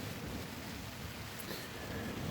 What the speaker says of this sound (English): as you can hear, it's raining and the wind has turned